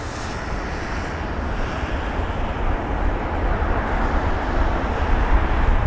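A 21-year-old aircraft inbound from Zurich approaches London Heathrow at sunset, heard as a low, broad engine rumble that swells gradually over the clip, blended with distant traffic noise.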